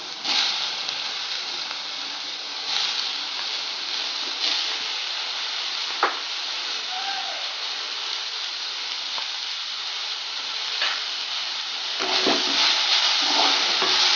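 Onion and tomato sizzle and hiss steadily in a hot pan while being sautéed for brinjal chutney, a continuous loud frying noise with occasional stirring scrapes and no talking.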